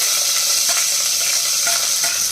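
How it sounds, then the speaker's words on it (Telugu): Cumin, chopped onions and green chillies frying in oil in a pan, a steady close hiss of sizzling with a few soft stirring scrapes throughout. "కొంచెం జీలకర్ర వేగిన తర్వాత తరిగిన రెండు ఉల్లిపాయలు రెండు పచ్చిమిరపకాయలు ఇలా తీసేసి"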